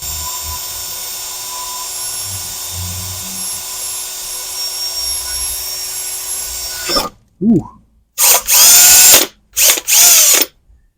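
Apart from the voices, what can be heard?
electric drill drilling metal oil pan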